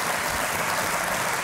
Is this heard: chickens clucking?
no